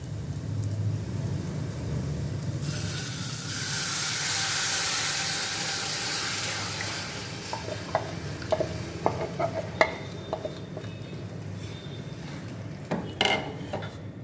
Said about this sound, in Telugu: ఇప్పుడు దీంట్లో ముందుగా కలిపి పెట్టుకొని ఉంచుకున్న మజ్జిగ బియ్య పిండితో కలిపింది పోసుకుందాం